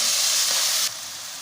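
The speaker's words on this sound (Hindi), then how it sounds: "अब हमने इसमें टमाटर डाल के बाकी मसाले भी साथ डाल देंगे। थोड़ी देर हम इनको भूनेंगे।" Tomatoes and spices fry in a pan for a potato and egg curry, giving a loud, continuous close sizzle and hiss that drops slightly in level partway through, with no speech.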